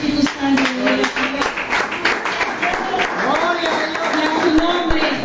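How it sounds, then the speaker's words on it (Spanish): Church congregation clapping and cheering in praise, rhythmic applause mixed with excited voices and shouts, fairly loud and lively throughout. "Démosle un fuerte aplauso al Espíritu Santo."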